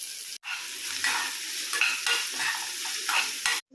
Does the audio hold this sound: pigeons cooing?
no